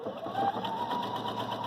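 A Viking Sapphire 930 sewing machine runs in a short steady burst, its fast even whir close and clear with no talk over it.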